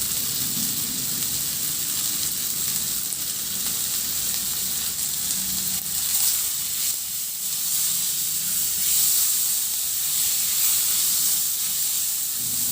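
Squash and fried pork liempo sautéing in a pan with tomato, a steady loud sizzle and hiss with faint stirring scrapes running throughout, no voices.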